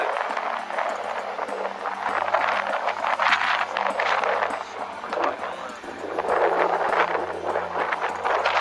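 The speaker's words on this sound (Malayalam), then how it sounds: "നല്ല കാറ്റ് വീശുണ്ട്." Strong wind buffets an outdoor microphone with loud gusty rumble and rushing noise, rising and falling in waves throughout, while someone talks.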